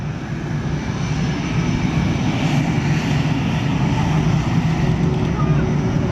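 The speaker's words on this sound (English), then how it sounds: "as he comes by on the beautiful Raging Bull Hornet" A Raging Bull F/A-18 Hornet jet passes at the NAS Oceana air show as a steady, loud engine roar that holds across the moment. A voice may be faintly present.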